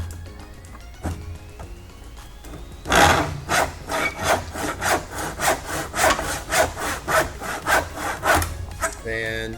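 Handsaw cutting through wood, starting with a few tentative strokes and then settling into a steady rhythm of loud, close back-and-forth rasping strokes, with a slight clatter at the end.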